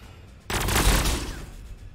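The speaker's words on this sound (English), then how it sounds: "Suppressing fire!" Suppressing gunfire in a Warhammer 40k Sanctus Reach battle erupts suddenly after a quiet moment, a dense sustained burst of rapid shots that rings loud and then slowly fades.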